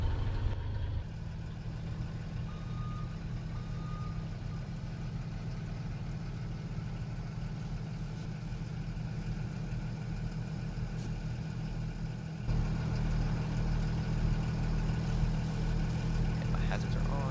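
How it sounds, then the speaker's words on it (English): A bus engine in the driving simulator game Rigs of Rods idles with a steady low rumble throughout, rising slightly louder near the end as it gets going, with people talking over it. "I'm just worried about getting the bus started."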